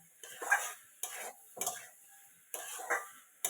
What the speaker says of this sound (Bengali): এবার একটু কষানো তো হতে থাকুক